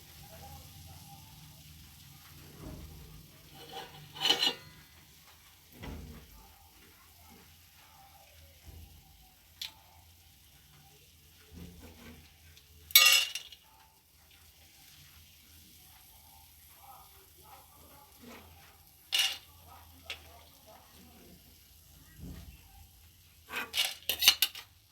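Metal utensils clink and scrape against a pan while fried pieces are lifted from hot oil, a soft sizzle underneath and scattered sharp taps spaced apart, with quiet background noise throughout.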